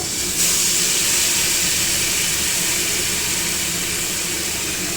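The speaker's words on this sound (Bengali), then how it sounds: "কালো জিরে ফোড়ন দিয়ে এবার আমি মশলাটা ঢেলে দেব" Coriander-leaf spice paste hits hot oil in a wok already tempered with black cumin (nigella) seeds, for a Bengali bhola fish curry, giving a loud, steady, continuous sizzle and hiss throughout, with no talking.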